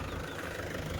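A Mahindra tractor idles at close range during the first day of field work, a dense, steady low rumble with a constant knocking throb that never changes pace, no voices.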